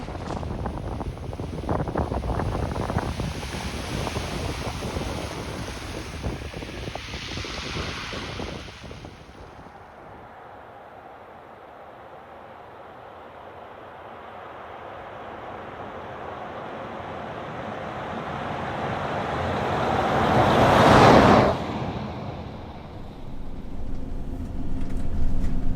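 Wind buffets the microphone while surf rolls in at the shore, a broad roar that fades midway and then swells into a loud breaking wave near the end.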